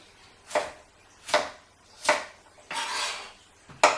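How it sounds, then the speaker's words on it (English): Raw beetroot being chopped into small chunks on a board, five crisp knife strikes spaced roughly evenly, one longer scraping cut among them, close and fairly quiet with no talking. "Just cut them into chunks about 1 centimetre by 1 centimetre"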